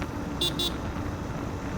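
Road traffic with cars passing on a busy road, a low continuous vehicle rumble with two short horn toots early on, heard from nearby without talk.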